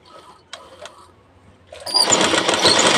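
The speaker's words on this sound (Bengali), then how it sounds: "দেখুন আমি চাপ সেলাইটা এখানে করে নিচ্ছি।" Sewing machine top-stitching a size 41 bra cut blouse, starting quietly after a few faint taps and then running loud and steady for the last second or so, alone without voices.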